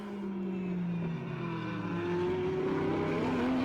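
A GT race car at a Virginia Blancpain GT World Challenge USA race accelerates as the driver picks up the throttle, its engine note rising steadily and droning loud and continuous.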